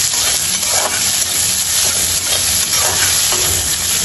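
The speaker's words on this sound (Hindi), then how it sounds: "मु एबे एथिरे अनियन को ऐड कर अनियन को लाइट ब्राउन होला पर्यंत एंती फ्राई करबा" Chopped onions frying in hot oil in a pan for an Odia drumstick and potato curry, a loud continuous sizzle with occasional stirring scrapes, no talking.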